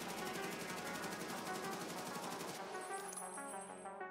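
AK-12 rifle in Escape from Tarkov firing a long unbroken full-auto burst while standing, rapid even cracks that stop abruptly, followed by a short ringing tail.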